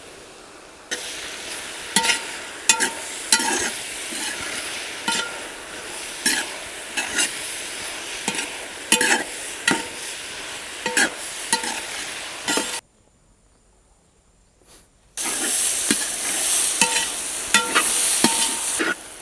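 Masala with curry leaves and turmeric is stirred in a sizzling pan for a quail egg roast, with steady frying hiss and regular scraping strokes of a spoon, then a brief silent break before the sizzle resumes.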